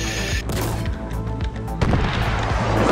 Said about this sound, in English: Fucking rocket launchers